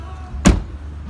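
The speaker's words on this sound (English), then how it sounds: "I'm going to shut these doors so you get to see." A truck door on a 2001 Toyota slams shut once, a single short, solid thud heard nearby against quiet surroundings.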